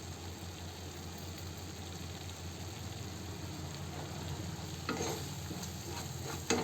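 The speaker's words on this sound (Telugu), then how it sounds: "నెక్స్ట్ వచ్చి ఆయిల్ అనేది పైకి వచ్చేదాకా ఫ్రై చేసుకోవాలండి ఈ మసాలాని." Masala paste with salt frying in oil, a steady dense sizzle with faint scraping from stirring, a few louder clatters of the spoon against the pan near the end; no voices.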